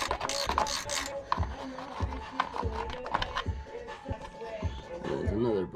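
A ratchet wrench turns a 10mm bolt while rock sliders are fitted to a vehicle, with rapid close clicking in repeated short strokes and a voice talking now and then.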